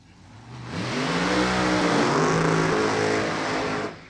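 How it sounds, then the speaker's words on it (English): Loud NHRA drag racing cars at a divisional race rev hard, the engine roar climbing and holding steady for several seconds before cutting off abruptly, close and overpowering. "those cars are loud"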